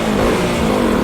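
A KTM RC 200 BS6 motorcycle fitted with an SC Project exhaust revs loud and close in one continuous, raspy engine roar.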